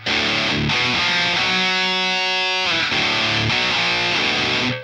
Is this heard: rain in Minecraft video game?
no